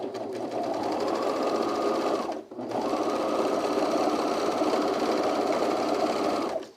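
A serger sewing machine stitches overalls in two fast, loud, continuous runs separated by a brief pause, the motor humming with rapid rhythmic stitching.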